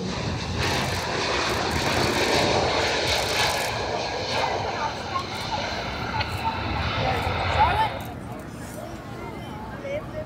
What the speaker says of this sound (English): going to demonstrate to you the short stopping capabilities of the C-5M